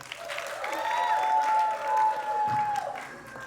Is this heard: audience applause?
yes